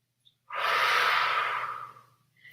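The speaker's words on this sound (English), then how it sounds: "Keep holding it. Nice deep breathing." A single long, deep breath during a held yoga pose, a breathy rush lasting over a second and fading out, close to the microphone with no talking.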